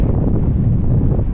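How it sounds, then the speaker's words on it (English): Wind gusts buffeting the microphone outdoors on a waterfront walk at Alderney Landing in downtown Dartmouth, a loud, steady low rumble filling the whole clip with no voices. "Picking up a little more wind right here."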